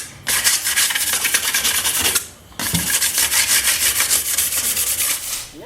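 Drill holes in a homemade metal garage flute being deburred, a steady close rasping scrape that runs in a continuous stroke, breaks off briefly, then resumes just as loud.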